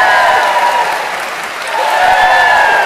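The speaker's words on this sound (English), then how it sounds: "raise your hands and you get instantaneous applause from the audience" Studio audience applause at a live radio show swells loud and dense, dipping briefly in the middle before rising again, with crowd cheering mixed into the clapping.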